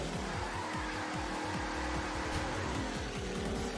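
A car in a video game drives along, its engine droning steadily with repeated rising gear-shift sweeps, accompanied by constant road and game noise throughout.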